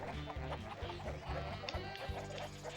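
Chickens in the Shrek 2 GameCube game cluck in quick repeated bursts, with layered game sounds and other audio running steadily beneath them.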